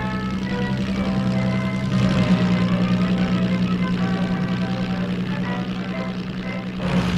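A Napier Railton racing car coasts around the steep lower banking at Brooklands in Assetto Corsa, its big engine holding a steady, loud droning hum with a slight swell near the end.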